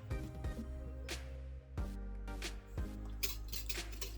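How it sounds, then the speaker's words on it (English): Yeast being mixed into bread dough ingredients in a bowl gives several close clinks and scrapes of a utensil against the dish, spaced out in short bursts over a quiet background. "Mix that in a bit."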